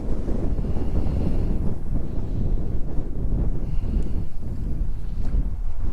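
Strong, steady wind buffets the microphone beside a golf course pond in chilly conditions, a loud, constant low roar with gusty surges throughout and no voices.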